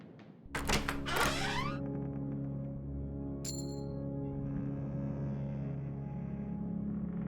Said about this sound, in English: It's a loud banging on your door